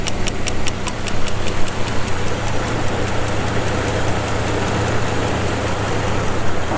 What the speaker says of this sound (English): That ticking sound? That's the solenoid for the EVAP.